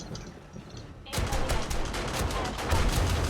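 Automatic turrets in the survival game 7 Days To Die open fire abruptly after a quieter moment, a dense, sustained fusillade of rapid gunshots that stays loud and continuous to the end.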